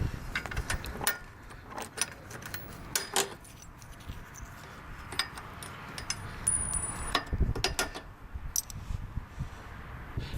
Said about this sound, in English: So I'm just in the process of pulling these bolts out.